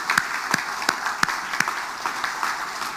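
Church congregation applauding during a Sunday evening worship service, a moderate wash of clapping from a group with several distinct sharp claps in a loose, regular rhythm.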